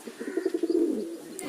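A pigeon cooing nearby in a short burst of soft, throaty pulses that quicken and blur into a brief rolling coo.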